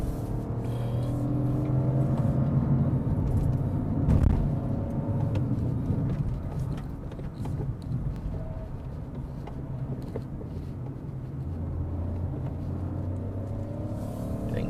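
A Peugeot 2008 with a 1.2-liter turbo engine and automatic gearbox climbing the road up Genting, its engine a continuous low in-cabin drone with small rises and dips in pitch and occasional knocks, no talking.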